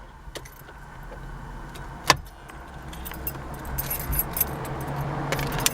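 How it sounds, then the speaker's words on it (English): Car keys jangle as the key is pulled from the ignition, with a sharp metallic clink near two seconds and lighter rattles later, all close and alone over a low idle-like hum. "if I turn off the ignition, so the ignition is off, and if I pull the key out"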